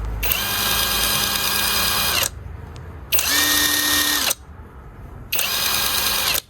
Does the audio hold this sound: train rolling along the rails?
no